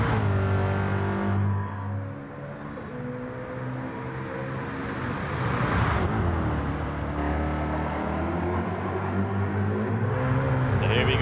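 Ford Mustang Gr3 race car on the Bathurst circuit in a racing video game, its engine droning steadily and rising in pitch as it accelerates, with commentary talking over it throughout.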